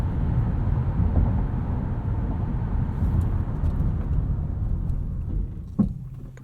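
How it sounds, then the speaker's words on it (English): A 2020 Acura MDX AWD Advance Package with a 9-speed transmission accelerating hard from a stop, a steady loud engine and road roar heard from inside the cabin, with a brief knock near the end. "Let's do a brake test and a 0 to 60 here."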